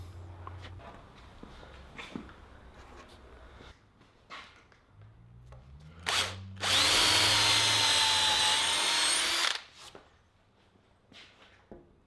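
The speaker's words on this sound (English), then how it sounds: "At this stage I will only fit 2 screws." A power drill drives screws into timber. Short tool bursts build to a sustained, loud whirring run of about three seconds, then stop, with light knocks and handling noises around it and no speech.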